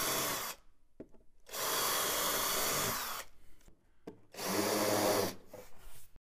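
A power drill bores holes into a wooden cabinet, with two long, loud whirring bursts separated by short pauses and brief starts, close up and with no talking.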